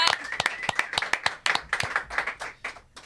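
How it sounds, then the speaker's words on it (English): Small audience at a stage show clapping for a performer, a thin spread of distinct individual claps at close range that gradually tapers off. "let's give a big round of applause to Scott DC"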